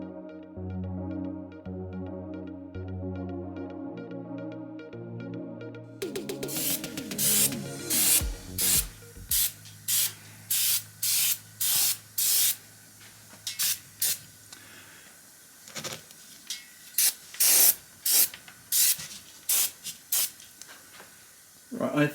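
Rapid bursts of spray paint hiss in short repeated passes as a third coat goes onto a Porsche 928 door panel, close and fairly loud, preceded by a few seconds of steady humming background.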